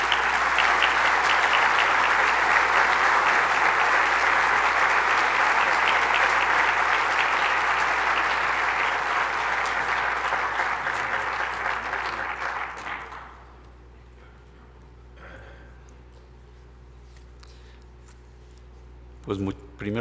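An audience at a lecture in Mexico City gives loud, sustained applause after a speaker's introduction; the dense clapping runs for about thirteen seconds, then fades out, leaving quiet room tone and a few faint knocks.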